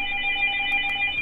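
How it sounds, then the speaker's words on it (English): A phone rings in a Minecraft multiplayer survival server, a steady electronic trill of sustained bright tones, loud and continuous through the short moment with no talk. "I hear a phone."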